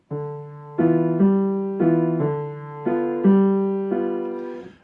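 Piano chords played in a steady, rocking pattern, several struck notes each ringing and fading before the next, clear and close.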